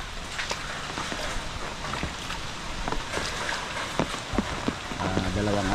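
Steady rain falls on a flooded seaside beach after two to three days of downpour, a dense hiss of drops filling the whole stretch with scattered louder splashes and a faint murmur of voices underneath.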